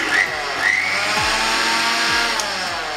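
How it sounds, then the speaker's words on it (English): An electric blender whirs steadily, blending cooked moong dal into a smooth soup, a continuous loud motor drone with a few brief higher whines near the start and no talking. "Now transfer it to a blender."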